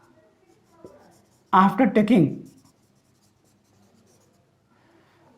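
A pen or chalk scratches across a board during a physics lecture on motion numericals, faint strokes around a brief burst of someone speaking.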